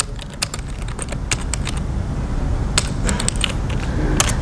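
Computer keyboard typing during a live Python programming demo at a conference, bursts of clicking keystrokes in quick irregular runs with pauses, close and moderately loud over a faint room hum.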